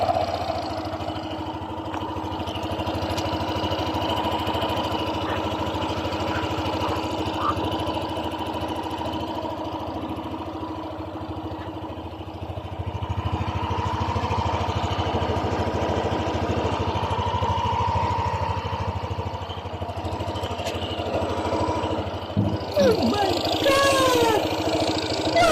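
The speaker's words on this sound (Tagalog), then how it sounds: "Ito naman tunog ng makina, guys, pagkatapos natin siyang mapalitan ng connecting rod." A Yamaha NMAX 155 scooter engine runs at a steady idle after a connecting rod replacement, a continuous mid-pitched hum with a slight rise partway through and a few clanks near the end, people speaking nearby.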